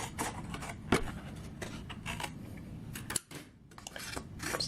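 Scissors cut a stencil page from paper for a collage, a series of close, crisp snips and paper rustles in an uneven rhythm, with no voices.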